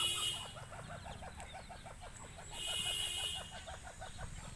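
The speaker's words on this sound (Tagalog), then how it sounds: "Ayan yung sisiw na manok." Young chicks peep in a rapid, continuous stream of high cheeps close by, with an adult chicken's faint clucking and background bird noise around them.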